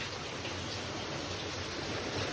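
Rain falling, a steady dense hiss with no breaks and no voices.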